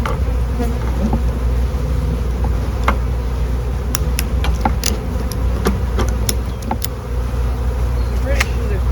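A swarm of honeybees drones all around as a close, loud, continuous buzz, with individual bees zipping past the listener and a low vehicle rumble underneath.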